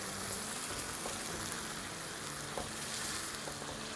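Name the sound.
onions and chicken frying on medium-high flame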